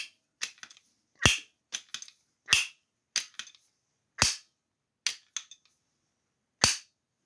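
Sharp, separate mechanical clacks from a Crosman 130 .22 multi-pump air pistol being pumped, about ten strokes spread irregularly over several seconds, close and fairly quiet with no talking.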